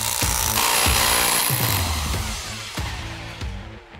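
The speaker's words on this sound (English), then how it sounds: "So I kind of bought a mini jackhammer." A battery-powered 1500-watt mini jackhammer breaks hard rock while retaining walls are dug out on a property in Northern Italy: harsh grinding bursts with several sharp impacts, close and loud, slowly tapering off.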